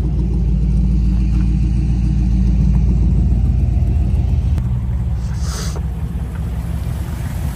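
A 1962 Chevrolet Impala SS with aftermarket exhaust idles close by in a steady, deep, loud rumble, its tone smooth and even with no talk.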